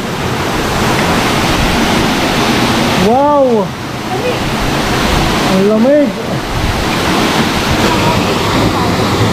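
Hugasan Falls, a waterfall in Caloocan, Talisay, Batangas, roars as a steady, loud broadband wash of falling water throughout, with a person's voice calling out briefly twice over it.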